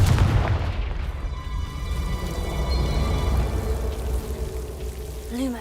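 Confringo fire spell bursting in Hogwarts Legacy, a loud booming blast at the start that rumbles and crackles away into a long fading tail, with a faint whooshing swirl near the end.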